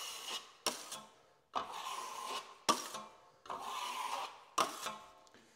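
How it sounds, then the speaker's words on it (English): Flat trowel spreading drywall mud over corner bead, giving a series of close scraping, rasping strokes, each starting with a sharp onset and trailing off, about five passes separated by short pauses. "So first I'm going to use the flat trowel, and I'm going to show you kind of what that does."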